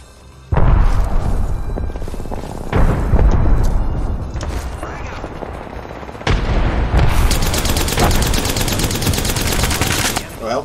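Close, loud gunfire and explosions in an Apex Legends fight, with a frag grenade blast among dense automatic fire that runs almost the whole time. Speech can be heard faintly under it.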